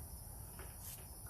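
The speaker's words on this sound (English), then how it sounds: "Can you hear the crickets or" Crickets chirp outside on a calm night, a faint, steady high trill running through the whole stretch with no voices over it.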